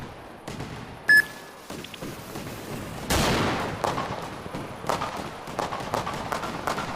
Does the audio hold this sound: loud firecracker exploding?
yes